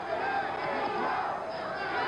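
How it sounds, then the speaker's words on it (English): A boxing arena crowd at a Ken Norton versus Jimmy Young fight, a steady, loud roar of many voices yelling and chanting throughout, with a commentator talking over it. "The crowd is now yelling Jimmy Young"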